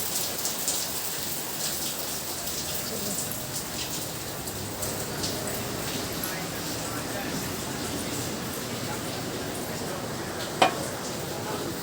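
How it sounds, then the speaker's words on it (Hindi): Steady, dense rain hissing and pattering across surfaces, a continuous broadband wash with one brief sharp knock near the end. "बहुत तेज़ बारिश हो रही है।"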